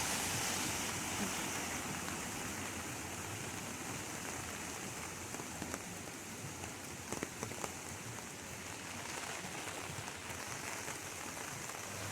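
Steady rain patters and hisses across surfaces on a hiking trail in the foothills, a continuous wash of drops with a few sharper taps standing out.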